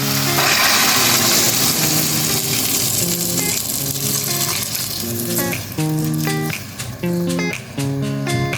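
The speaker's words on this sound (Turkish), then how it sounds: "Şimdi sebzelerimi biraz e, kavuruyorum" Vegetables for a Turkish carrot, pea and potato türlü sautéing in a pan, a continuous loud sizzle, with music playing alongside and no talking.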